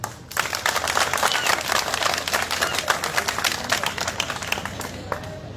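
An audience at a book-signing event in Bongor breaks into applause, a sudden start into a sustained, dense clatter of many hands that carries on steadily and loudly, then thins slightly at the end.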